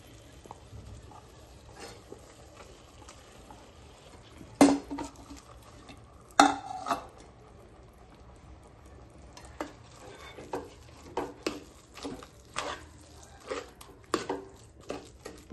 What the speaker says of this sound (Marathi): ते आता फोडणीला टाकते मी पावभाजी मसाल्यामध्ये